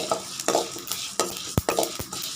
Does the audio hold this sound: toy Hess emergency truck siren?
no